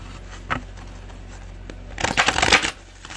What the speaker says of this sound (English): I'll shuffle these really good.